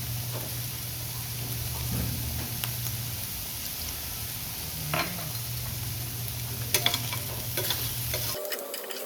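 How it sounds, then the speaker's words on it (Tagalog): Garlic and onion sautéing in a pan for tokwa't baboy, a continuous close sizzle with stirring scrapes and a low hum, a few sharper clicks near the end. "Nagisa na kami para ng bawang at sibuyas"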